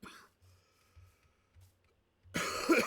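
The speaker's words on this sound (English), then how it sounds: "Oh, bad cough." A person coughs during a Minecraft play session: a faint rough burst at the start, then a louder, harsh cough at the end, with low game noise in between.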